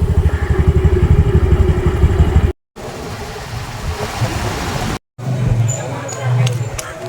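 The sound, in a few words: scooter riding on the road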